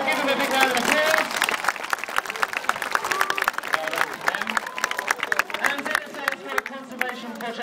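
An audience at an elephant show in Thailand bursts into applause, a dense, crackling round of clapping with crowd chatter and a few cheers, staying loud across the whole stretch before easing slightly.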